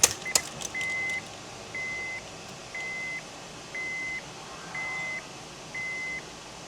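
A Torvo TD3 dashcam starting up inside a car, giving seven evenly spaced electronic beeps, each about half a second long, after a few faint clicks at the start.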